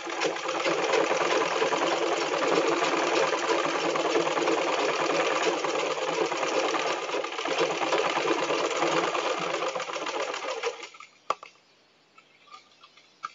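Sewing machine running steadily and loudly for about ten seconds while stitching elastic into a salwar waistband, then stopping, followed by a few faint clicks and handling noises.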